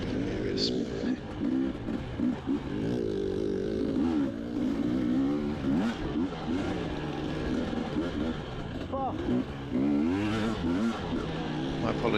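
Dirt bike engines rev and whine through shifting gears during a Florida Trail Riders harescramble race at Indiantown, the motor pitch rising and falling steadily as a rider talks over the noise.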